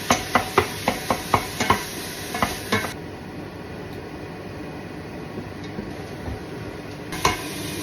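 Onion and garlic sizzling in a pan, with a series of sharp stirring clacks at the start, then steady frying hiss continuing alone, close by.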